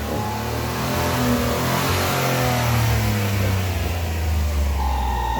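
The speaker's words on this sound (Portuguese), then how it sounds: "vou dar uma acelerada aqui deixando ele fumaça" A Fiat Argo three-cylinder engine, showing a fault and blowing smoke, revs steadily and loudly up close, a continuous droning roar with a rising tone near the end and no talk.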